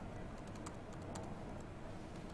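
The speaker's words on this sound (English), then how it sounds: "you really get a full typing experience" Typing on the full-size keyboard of a mini notebook computer, a steady run of soft key clicks over a constant background hum.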